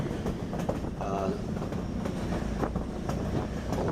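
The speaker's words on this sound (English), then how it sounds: "And this is the train. This is how close it got to the cliffs." A train rolls along cliffs in an Alaska canyon, its wheels clicking and clattering on the rails in a continuous rumble at moderate distance, with a brief squealing tone and a voice talking faintly underneath.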